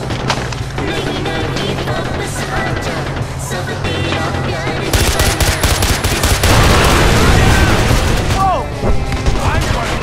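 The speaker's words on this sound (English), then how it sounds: "There's a gun underneath the dashboard!" Heavy, continuous gunfire in the Far Cry 4 prologue from a gun mounted under a car dashboard, loud bursts over a rumbling vehicle, growing denser and more chaotic halfway through as a voice shouts over it.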